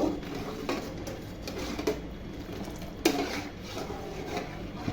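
A spoon scrapes and taps against a pot as boiling milk is stirred for malai ice cream, with soft repeated strokes and a few sharper clinks over a low steady background hiss, fairly quiet and close.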